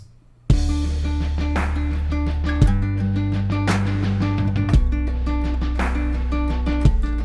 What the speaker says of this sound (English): The first one is a main acoustic guitar part that's very similar to the one I played on the verse